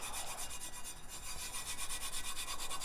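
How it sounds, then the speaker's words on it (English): Fingers rubbing glitter onto a Tack It tumbler, a close, continuous rhythmic rasping with quick back-and-forth strokes at a steady pace, fairly quiet. "So you're just going to take your fingers and start rubbing."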